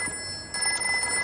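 A telephone rings during a family meal at home, a steady electronic ring that holds clear and fairly loud throughout.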